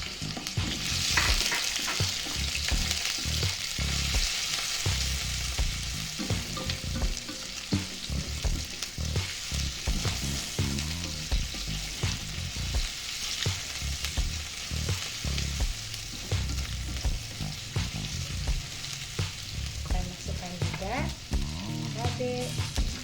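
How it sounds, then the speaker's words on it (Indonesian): Shrimp frying and being stirred in a pan for a tofu and shrimp oyster-sauce stir-fry, a loud continuous sizzle with dense, repeated scraping of the utensil throughout and no talk. "Nah, setelah ini baru kita masukkan udang."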